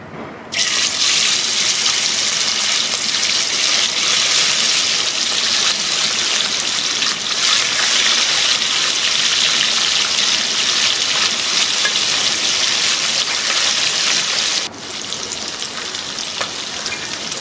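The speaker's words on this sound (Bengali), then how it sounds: "তেলটা খুব ভালো মতো গরম হয়ে গেছে। এবার আমি মাছগুলো ভেজে নেব।" Moya fish frying in very hot white oil gives a loud, close, continuous sizzle that starts abruptly as the fish go in and drops slightly near the end, with no talking.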